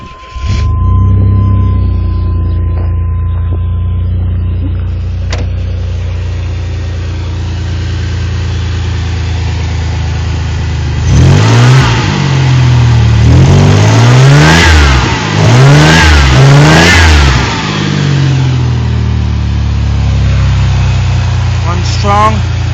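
A 1988 2.8 L car engine idles loudly and steadily, then revs repeatedly in a series of rising and falling surges before settling back to idle, close to the microphone.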